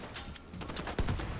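An SMG fires in The Division 2, heard as short bursts of rapid shots over busy game ambience, with a sharper, louder burst near the end.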